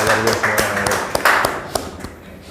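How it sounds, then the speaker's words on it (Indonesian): Audience applause at a customer gathering, a short burst of clapping with distinct sharp hand claps, heard alongside voices talking. "Oke, tepuk tangan Bapak Ibu. Boleh tepuk tangan Bapak Ibu."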